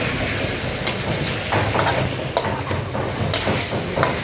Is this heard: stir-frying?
yes